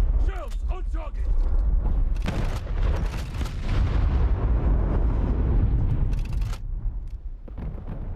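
Naval shells slamming into a target in the video game War Thunder Mobile, a run of loud, dense booming impacts and rumbling blasts that fill the scene, with voices calling out over the explosions.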